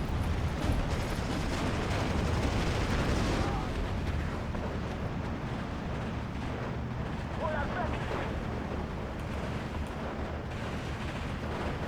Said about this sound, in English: Trying to drop 81mm mortars right behind them.